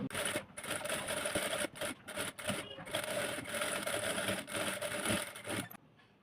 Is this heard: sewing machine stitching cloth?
yes